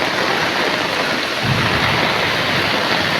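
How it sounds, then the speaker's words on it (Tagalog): Heavy typhoon rain pours down in a dense, loud, steady hiss, joined partway through by a low rumble of thunder. "Medyo mahina ng ulan ngayon"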